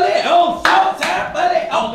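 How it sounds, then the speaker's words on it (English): Indoors at home, a few sharp hand claps ring out close and loud among reverberant room sound, spaced irregularly across a couple of seconds. "Don't clap in here"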